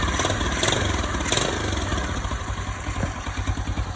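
A Lifan 125cc engine swapped into a CT90 Trail 90 motorcycle, out of gear, fires up easily and settles into a steady, close idle with a lumpy low-pitched putter and no talking.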